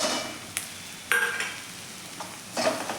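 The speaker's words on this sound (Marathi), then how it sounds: "हे वाटण देखील आपण यामध्ये मिक्स करून घ्यायचं आहे" Dry spices and a ground wet masala paste being stirred in a hot pan for an eggplant and potato curry, with soft sizzling throughout and several sharp scraping clinks of a spoon against the metal, close and alone.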